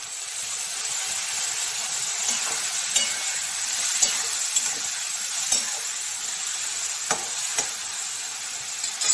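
A paste of turmeric, chili and cumin powder sizzles and fries steadily in a pan, with occasional stirring clicks and scrapes over a continuous hissing sizzle, close and even throughout.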